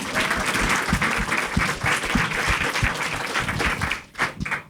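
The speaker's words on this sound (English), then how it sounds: "Can we clap again for them?" An audience at a public art discussion for San Pedro Creek Culture Park claps for the San Antonio River Authority, with steady applause that thins and tapers off near the end.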